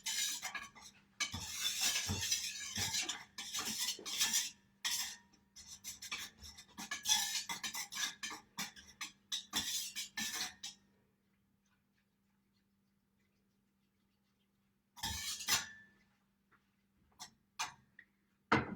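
Whisk scraping and rattling rapidly against a pan while an elderberry gummy mixture is stirred, dense bursts of close metallic ticking for about ten seconds, a near-silent pause, then a few shorter flurries and clicks.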